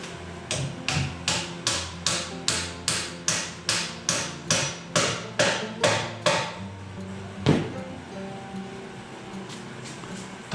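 A hammer drives a piece into a woodworking bench: around fifteen sharp, evenly spaced blows in quick rhythm, close and loud, then one last heavier strike after a short pause.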